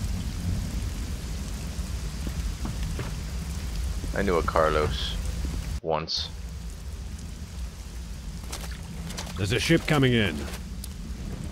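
Rain and thunder storm in the game Risen 2: a steady hiss of rain and low rumble runs beneath two brief stretches of speech, with a short dropout near the middle.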